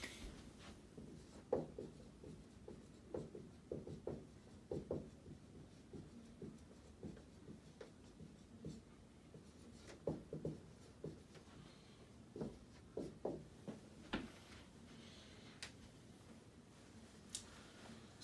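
Definition of energy written out by hand, soft scratchy pen strokes in short irregular bursts, quiet and close, with no talking.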